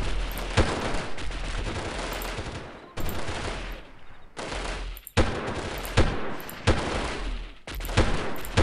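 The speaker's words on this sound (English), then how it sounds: "I think that is Charlie Team firing shots" Bursts of automatic gunfire from Charlie Team in the video game Delta Force, set in a junkyard in Uzbekistan, come in loud, dense volleys with short pauses between them and sharp cracks at the start of each burst.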